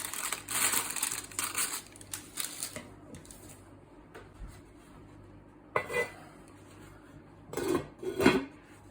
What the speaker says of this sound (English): Just trim off the excess paper.